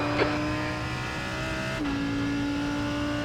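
A GT race car engine in a racing sim at Hockenheim drones steadily close by and shifts pitch partway through. A brief tire squeal is heard near the start.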